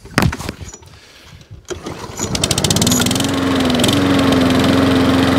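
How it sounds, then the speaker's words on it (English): A repaired lawn mower engine cranks with a few pulls, catches and settles into a loud, steady close-up running drone. "Ah, another free mower up and running."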